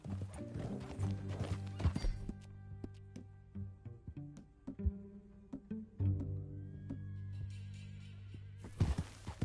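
Hooves clip-clopping in a steady rhythm, with a horse whinnying and snorting over a low musical backdrop, from the video game Red Dead Redemption 2.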